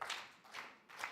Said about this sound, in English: So can we clap for my panel, and we do it the Kenyan way.